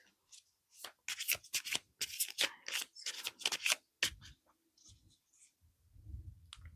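A deck of oracle cards is shuffled in quick, close, papery riffles and flicks, then slows to softer handling as a card is drawn from the pack.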